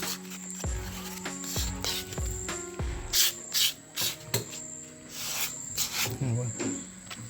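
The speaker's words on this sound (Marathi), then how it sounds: "तो रफ आपण पॉलिश पेपरने घासून घेतो" Polish paper rubbing over the rough primed surface of a Ganesh idol, short scraping strokes repeating in an uneven rhythm, close by, with someone talking over much of it.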